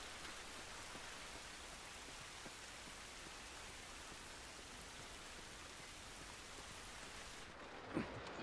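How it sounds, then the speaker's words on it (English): Rain falls steadily in a game set in post-apocalyptic ruins, a dense even hiss filling the scene at low level with a soft thump near the end and no talk. "This rain ain't gonna do us any good."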